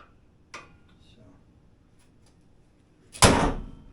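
The hood of a wrecked Toyota Prius is slammed shut. A lighter metallic knock comes first, then one loud, close, heavy slam rings out near the end after a quiet stretch.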